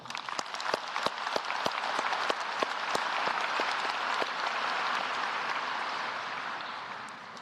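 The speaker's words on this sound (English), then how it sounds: "Let us all give a round of applause for our parents" Steady applause from a high school graduation audience honoring the graduates' parents, dense clapping sustained for several seconds with sharp individual claps standing out near the front, then easing slightly toward the end.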